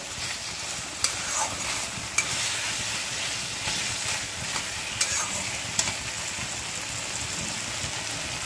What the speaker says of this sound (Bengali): যে আমার মশলাটা সাঁতলানো বা ভাজা হয়ে গেছে, এখন জল দিয়ে দেবো।